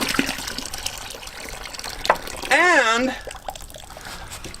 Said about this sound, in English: I just dump this gallon in here